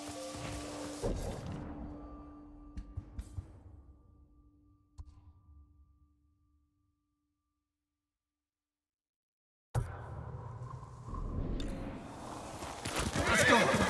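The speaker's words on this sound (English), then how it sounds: "You're a good horse, Kage." A horse in the video game Ghost of Tsushima whinnies and its hooves clip-clop, first with ambient game sounds and a bright tone, then a few seconds of silence before loud game sound returns.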